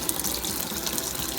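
Very hot tap water runs steadily from a kitchen faucet, a continuous close rushing and splashing with no pauses.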